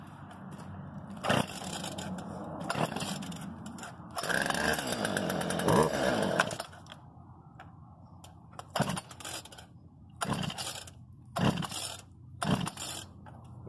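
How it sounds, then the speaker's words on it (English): A chainsaw revs in loud bursts, with a longer stretch of buzzing as it bites through wood between shorter cuts and pauses. "first you don't succeed, get a chainsaw"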